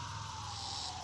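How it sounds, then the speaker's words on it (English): Emergency vehicle sirens pass by outdoors near a garden, a steady wailing tone held throughout over low traffic rumble, moderately distant and continuous. "we got more sirens going by here"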